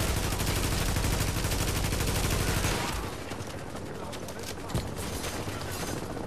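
Sustained rapid automatic gunfire from the video game The Division, dense and loud for the first half, then easing into scattered shots under a background voice.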